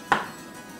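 One short, soft knife cut through a soft avocado, landing on a board close by, then quiet.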